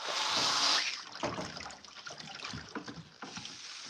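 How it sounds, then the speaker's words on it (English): Water splashes into horse water buckets in a stall with a hissing rush at first, then settles into an irregular splashing and trickling, fairly close and moderately quiet. "Fill up my 2 water buckets that don't reach."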